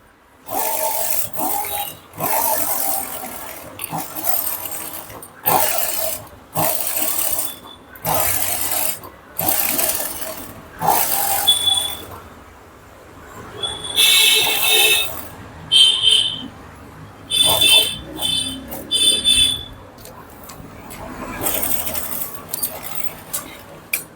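A sewing machine stitching a lace edge onto a blouse runs in short, buzzing bursts separated by brief pauses, close and fairly loud, with some faint talk between runs.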